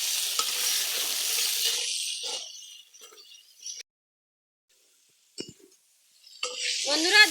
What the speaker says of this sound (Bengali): এখন এই আলুগুলো ভালো করে মশলার সঙ্গে আমি কষে নেব।